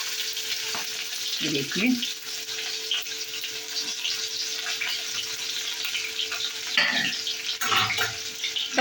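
Onion and green chili fry in a pan with oil, a steady loud sizzle and crackle running throughout, punctuated by a few stirring scrapes; a voice briefly speaks partway through.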